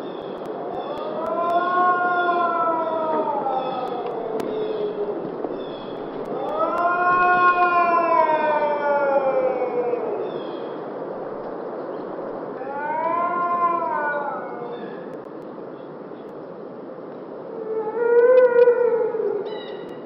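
Long, rising-and-falling wailing howls attributed to Bigfoot, four drawn-out calls with strong harmonics spaced across the recording, fairly loud and steady against a constant background hiss, with no dogs barking or talk.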